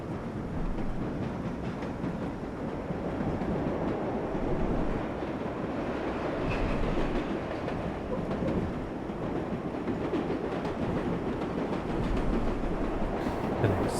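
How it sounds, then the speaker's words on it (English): A New York subway local train runs in the World of Subways 4 driving game, giving a steady, continuous rumble of rolling wheels and car noise for about fourteen seconds with no talking. "It's the local train on its way back."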